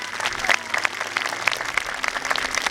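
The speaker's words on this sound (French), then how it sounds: "Vous pouvez l'applaudir très fort" Audience applause at an outdoor medieval show after an osprey is presented, scattered crowd clapping with distinct individual claps, moderately loud and uneven.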